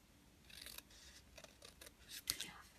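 Scissors snip tabs into the side of a small paper gift box, a few quick crisp cuts in short bursts, close and fairly quiet with no talking.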